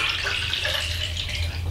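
Kodak TC-3 tray cleaner solution pours out of a container in a steady, close liquid splash and gurgle, brief and continuous.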